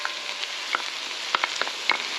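Garlic cloves hit a pan of curly dock and bacon, and a steady bright sizzle of frying follows, with a few small pops and stirring clicks at close range.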